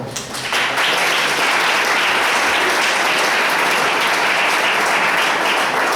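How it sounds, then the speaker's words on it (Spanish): A church congregation applauding during a Spanish-language Sunday service, with sustained, dense clapping that fills the whole stretch at steady loudness and no talk over it. "Denle un aplauso al Señor, hermano."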